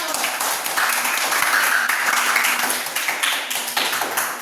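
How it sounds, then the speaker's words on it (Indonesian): A classroom of students claps together at the end of a lesson, a busy, fairly loud patter of hands mixed with some voices. "Tepuk tangan untuk kita semua."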